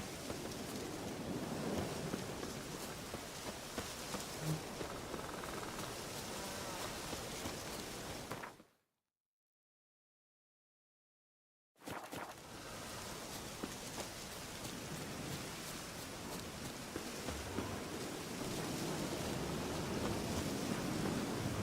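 Steady rain in The Witcher 3 video game hissing down continuously, broken by a few seconds of complete silence midway before the downpour resumes.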